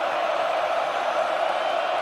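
A packed stadium crowd at a Notre Dame versus Indiana college football playoff game roars in a dense, continuous wash of noise that stays loud and steady.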